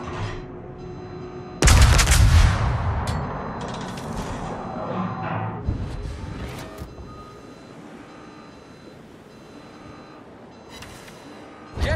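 Naval guns fire in World of Warships, from the Alaska large cruiser: a heavy, loud boom opens, followed by rumbling salvos and mechanical clatter that fade to a quieter background, then another blast at the close.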